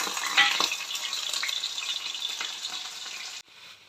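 Mustard seeds, garlic and green chillies fry in hot oil for a ripe mango pickle, giving a loud, steady sizzle with crackling spatters that cuts off sharply near the end, leaving a quieter hiss.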